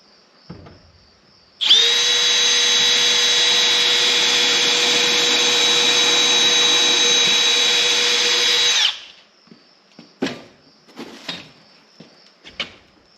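A Makita M12 Fuel cordless power drill whines steadily at high speed for about seven seconds, loud and close, used while fixing salvaged wood to a pallet shelf in a shed; a few short knocks follow after it stops.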